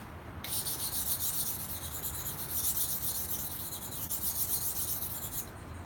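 A knife blade is worked against a 400 grit Edge Pro Apex stone in steady gritty rasping strokes that run continuously and close up, with a brief quiet moment at the start and no talking.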